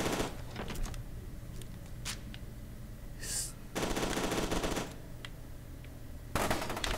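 Shotgun fire in F.E.A.R. 2, several sharp blasts amid rattling gunfire and combat noise, with a couple of dense bursts standing out over the busy game soundscape.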